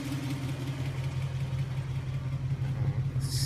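A Lexus 1UZ-FE V8 engine swapped into a 1991 Toyota pickup idles steadily with a smooth, low rumble, close by and even throughout, with a brief hiss near the end; the manifold has a slight exhaust leak.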